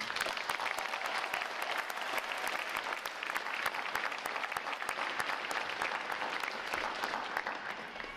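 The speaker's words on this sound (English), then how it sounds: "A round of applause for family and friends." Sustained applause from a crowd honoring family and friends at a U.S. Navy Recruit Training Command boot camp graduation, steady dense clapping with a few sharper claps standing out, moderately distant.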